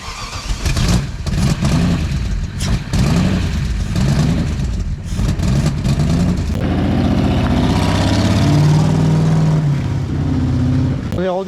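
A Ford Mustang engine on a dyno bench turns over and fires, sputtering in uneven bursts before settling into a loud, rising rev with a steady drone, close and strong.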